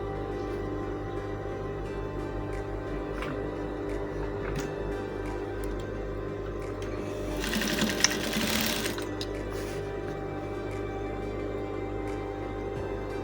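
Sewing machine stitching the edges of a dashiki garment, a close steady rapid mechanical whir with a brief louder rattling burst near the middle and no talking.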